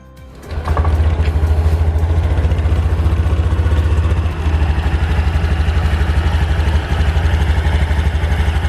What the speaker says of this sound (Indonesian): Oke, sekarang kita akan coba dengarkan suara mesin dari Honda Beat Street 2020.